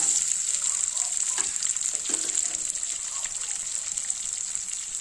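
Onion and green chilli sizzle steadily in hot masala for a village-style mutton brain gravy, with a constant loud frying hiss and faint stirring scrapes throughout.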